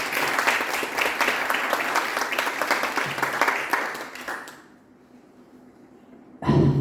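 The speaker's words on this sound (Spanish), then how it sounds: "cedo la palabra a Valentín y un aplauso para él" An audience at a local history lecture claps loudly and steadily for about four seconds, then the applause stops abruptly, leaving a quiet room before a sudden noise at the end.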